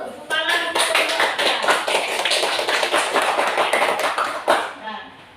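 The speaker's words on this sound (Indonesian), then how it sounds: "Tepuk tangan untuk kelompok" Classroom clapping for a student group after their presentation, a fast, close burst of many hands that fades out at the end.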